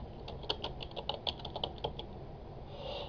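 Quiet typing on a computer keyboard, a quick irregular run of light key clicks for about two seconds, then a soft pause, with no talking.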